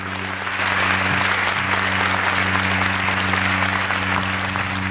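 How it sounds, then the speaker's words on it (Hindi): Sustained audience applause at a Hindi kavi sammelan poetry recital, a dense wash of clapping that swells after the first second and holds steady and loud, with a steady low hum beneath. "एक बार ताली बजा के मेरा सम्मान"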